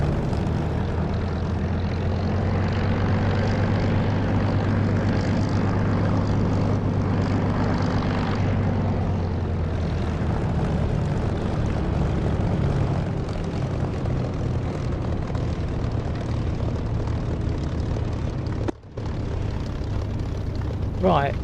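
A propeller aircraft engine in a flight simulator game throttles up for takeoff, a steady loud drone that swells and holds for most of the stretch, with a brief dropout near the end.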